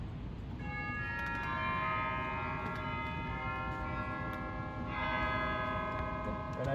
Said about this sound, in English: There are chimes.